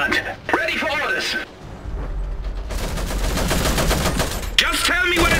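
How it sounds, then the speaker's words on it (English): Gunfire in the Iron Harvest 1920+ strategy game crackles in bursts and sustained volleys beneath spoken unit voice lines and battle chatter. "Taking enemy fire!"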